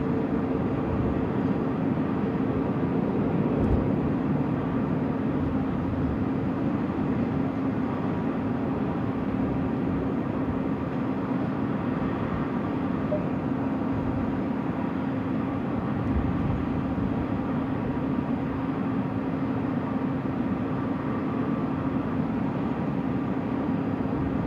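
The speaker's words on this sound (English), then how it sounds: "Malaysia 141, 330-300. Just landed there." A Malaysia Airlines Airbus A330-300 landing at night at Sydney Airport on runway 16R: a steady, broad jet roar holds for the whole span, fairly distant and even, with no talk over it.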